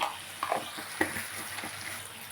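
Tomatoes fry in a pan with turmeric and salt for curry leaves rice, giving a soft, steady sizzle broken by a few light taps and scrapes of stirring, with no voices.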